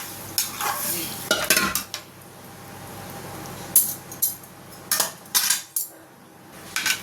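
Chicken gravy for a spicy Kerala-style dish is stirred in a pan, a spoon scraping and clacking against the metal in irregular bursts over a low simmering sizzle, with no talk.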